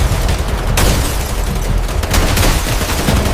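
Dense, continuous automatic gunfire from AK-47 rifles, loud and close, with overlapping bursts and no pauses.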